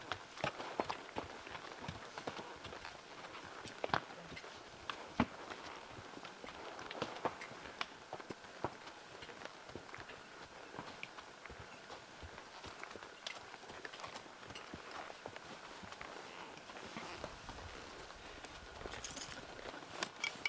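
Horse hooves plod at a walk along a mountain trail in the Uinta Mountains, faint and distant, with soft irregular thuds and rustling under steady background noise.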